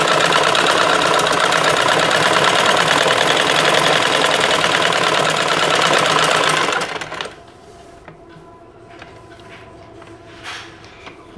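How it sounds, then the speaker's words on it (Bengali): A sewing machine stitches cloth for a homemade doormat, running with a loud, steady, rapid whirring hum for about seven seconds before stopping, leaving faint handling noises. "এখান পর্যন্ত সেলাই দেব।"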